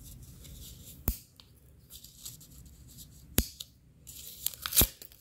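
A hospital wristband tugged and torn off by hand, quiet rustling punctuated by a few sharp snapping rips, close up with no talking.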